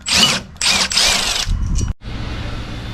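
A power tool whirs in three loud close bursts while cracking loose a bolt on a Sachs KM48 rotary drift kart engine, followed by a clunk and then a low quieter hum.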